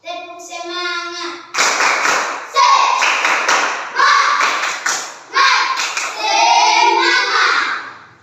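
Elementary schoolchildren in a classroom chant and clap in a rhythmic spirit clap, voices together in unison with sharp bursts of hand claps repeated several times, close and loud.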